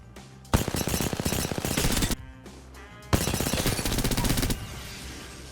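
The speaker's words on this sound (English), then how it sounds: "when you fire SMGs, they start to get sporadic" Two long bursts of rapid SMG fire from the video game Apex Legends, each lasting well over a second with a brief gap between, loud and close with dense repeated shots and no talk.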